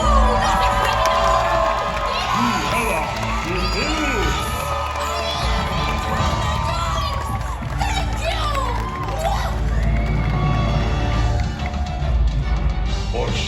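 Large audience at a Disney villains stage show cheering and shouting loudly and continuously, with children's screams and whoops over a dense crowd roar and amplified show sound.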